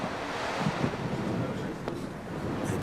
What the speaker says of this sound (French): le vent qui souffle toujours aussi fort